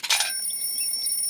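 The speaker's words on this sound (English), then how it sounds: "Sounds like a bell. An alarm bell." A cartoon alarm bell rings out loudly in a short burst, then settles into a sustained, bright ringing tone with no talking.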